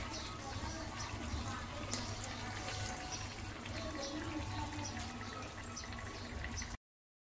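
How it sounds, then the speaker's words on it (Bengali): Milk pours steadily into a cooking pot while carrot halwa simmers, a continuous close liquid splash and trickle that runs for nearly seven seconds before cutting off abruptly. "আমি আবার 250 মিলিলিটার দুধ দিচ্ছি, মানে সব মিলিয়ে 1 লিটার।"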